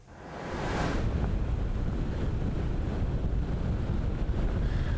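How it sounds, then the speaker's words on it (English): Strong storm winds and crashing surf at Ocean City blend into a loud, steady roar, with heavy wind buffeting the microphone as the noise swells in and holds. "They have had horrible tropical strength type storm winds that have been blowing through the area."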